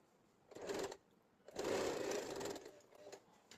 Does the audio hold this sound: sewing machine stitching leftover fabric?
yes